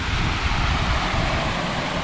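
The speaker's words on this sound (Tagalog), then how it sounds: "Ay, rumaragasa na naman tubig." Loud rushing water surges continuously close by, a dense roaring wash without breaks and no voices over it.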